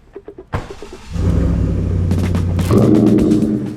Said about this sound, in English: hearing that V8 rumble along with a supercharger